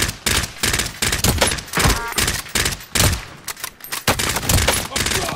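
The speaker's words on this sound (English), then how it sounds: "I'm getting shot from my left, from my right side." Rapid bursts of gunfire from a battle royale video game crackle loudly and almost continuously, with short gaps between volleys and a voice faintly under the shots.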